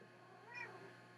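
A house cat gives a single short meow, quiet and close, in an indoor room.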